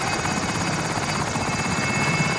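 Loud, close helicopter in the Call of Duty Modern Warfare video game, a continuous rapid rotor chop and engine whine filling the whole moment with no voices.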